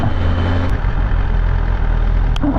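A BMW S1000RR motorcycle engine idles and runs early in the morning, a loud steady low rumble with no pauses.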